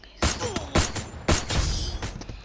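Bursts of gunfire in the Free Fire video game, four sharp loud volleys spaced about half a second to a second apart, each trailing off into a short echoing tail.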